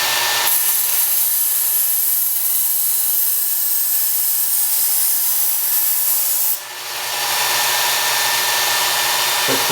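A Work Sharp Ken Onion belt sharpener grinds a knife edge, a loud, steady abrasive whine that drops out briefly partway through before resuming close-up, with no voices.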